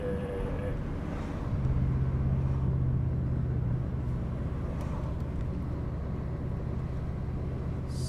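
A VW Golf R MK7.5 cruising in third gear, a steady low engine drone and road rumble from inside the cabin, holding a sustained tone for several seconds.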